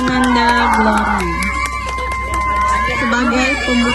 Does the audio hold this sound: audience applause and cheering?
yes